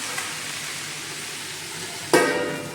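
Taro leaves greens fry in a pan with a steady crackling sizzle and occasional stirring, ending in a sharper clatter near the close; no voices.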